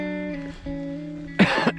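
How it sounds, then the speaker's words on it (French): A sick man on a 100-mile run in the south of France coughs twice near the end, sharp and close, after a steady droning tone. "Je tousse"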